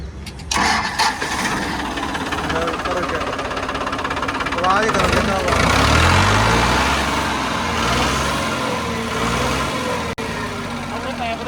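A Farmtrac 60 tractor engine cranks, catches around the midpoint and settles into a steady, loud idle, with people talking over it throughout.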